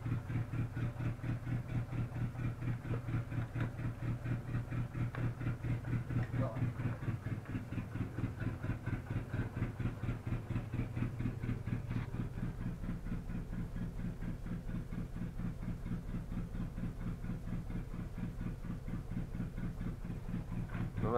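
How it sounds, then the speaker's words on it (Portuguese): A Fiat Palio turbo engine idles steadily throughout, a low, even, rumbling hum at constant volume with no revving. "A marcha lenta do danado."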